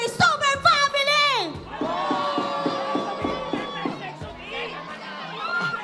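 Excited crowd at a live esports event, the MPL PH Mobile Legends league, erupting in shouts and whoops, then a sustained rhythmic chant with clapping and cheering, loud and close, with voices calling out over it.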